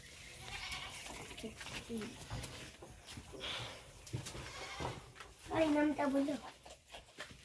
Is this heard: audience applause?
no